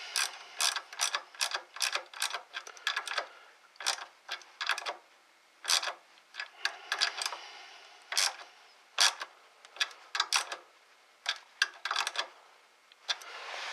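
A small socket ratchet tightens a sway bar link nut on a vehicle's front end, giving off rapid, close, crisp clicking in uneven bursts of back-and-forth strokes with brief pauses between.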